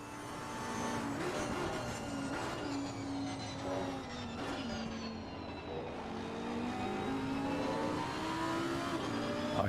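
A GT3 race car engine in a Snetterton sim racing game drones steadily, its pitch climbing and dipping as the throttle is fed in through a corner, loud and continuous with a faint second car nearby.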